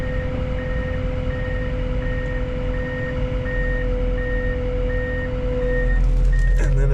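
A truck's reversing alarm beeps in a steady repeating rhythm, loud and close, over a constant diesel engine rumble while backing a lowboy trailer hauling a D51 bulldozer down a ramp; the engine swells near the end.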